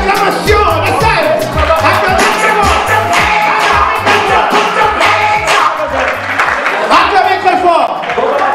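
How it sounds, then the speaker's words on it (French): An audience at a surprise birthday celebration for a reverend pastor gives loud acclamation and applause, the clapping and cheering steady throughout and partly buried under a thumping music beat and a voice speaking over it. "Acclamez très fort."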